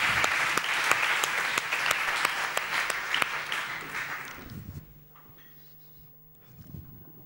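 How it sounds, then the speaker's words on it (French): Hackathon finale attendees applaud the winning team, with a full round of clapping and a few sharp, distinct claps up close, then the applause dies away into quiet room noise and some shuffling. "Je vous remercie de les applaudir à nouveau"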